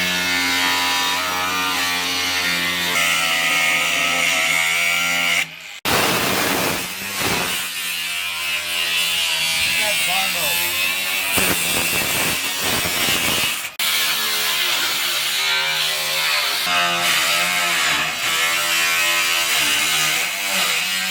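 Power saw cutting through the steel roof skin of a 1972 Camaro, a loud continuous grinding whine with two brief stops, steady and close throughout.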